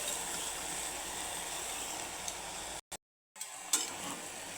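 Lafa greens and eggplant sizzle in a hot pan as they are stirred, giving a continuous soft frying hiss that briefly cuts out before resuming, with an occasional scrape and no talking.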